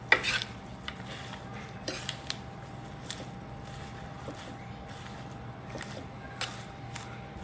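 Salad being tossed and mixed in a bowl at home, soft rustling with light clinks and taps of utensils against the bowl, fairly quiet and close, with a low background hum.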